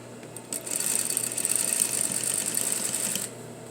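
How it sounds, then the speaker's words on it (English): Sewing machine running in one steady continuous burst for about three seconds, edge stitching along the back of a pair of jeans, close and fairly loud with a high whirring tone and no talking. "I'm edge stitching right on the back of the jean, right here."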